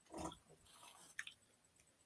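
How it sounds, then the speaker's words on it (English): Antacid tablets being chewed close to the mic: a soft crunchy bite, then a few quieter moist chews and clicks with short pauses, all fairly faint and with no talking. "I'm just chewing some anti-acid pills right fast."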